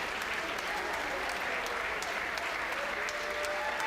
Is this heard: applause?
yes